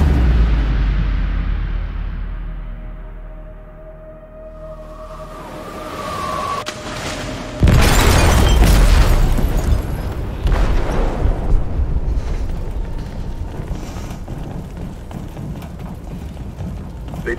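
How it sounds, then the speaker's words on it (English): Explosion detonated in the hold of a ship in the game Detroit: Become Human. A quieter rumbling buildup gives way to a sudden loud blast, followed by a long, heavy roaring and crashing rumble. "Detonated an explosive in the hold."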